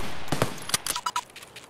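Rapid, sharp gunshots from a sniper in a loot-run shooter game, with several quick cracks and impacts landing in a burst over under two seconds.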